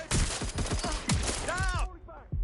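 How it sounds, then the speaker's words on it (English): Gunfire in the video game Watch Dogs: Legion, a rapid burst of several loud shots in quick succession, then a short ringing tail and one last shot. "Shots fired! Shots fired!"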